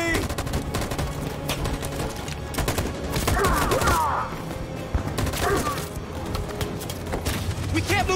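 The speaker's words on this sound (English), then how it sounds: "That machine gun is taking down everything that moves!" Sustained machine gun fire rattles in dense bursts through a battle scene in the video game Detroit: Become Human, with voices shouting faintly beneath the barrage and explosive cracks punctuating it.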